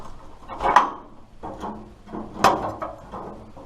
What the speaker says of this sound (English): I'm going to move the door there a little.